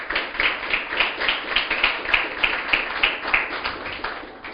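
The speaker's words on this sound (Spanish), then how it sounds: "Palmas para Cristo." A church congregation claps hands in a steady, rhythmic beat, a dense and fairly loud wash of clapping with regular accents and no talk over it.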